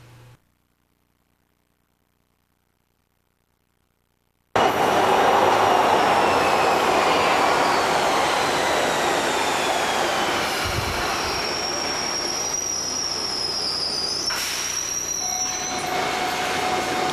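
A Toronto Bloor-Danforth Line subway train runs loud and close after a few seconds of silence, with a steady roar of rolling wheels, rail clatter and high squeals rising near the end.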